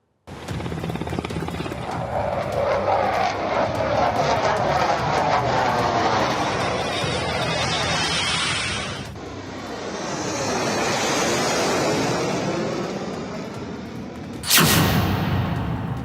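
Indian Air Force fighter jets, Rafale and Jaguar, roar low over the Ganga Expressway in Uttar Pradesh, a loud sustained jet rumble that swells and fades, then a second pass, ending in a sharp burst.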